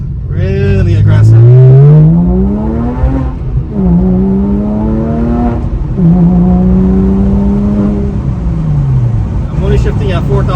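Porsche 997 accelerating hard with rising engine revs and several gear shifts around 4,000 RPM, loud and close from inside the car, each shift dropping the pitch before it climbs again.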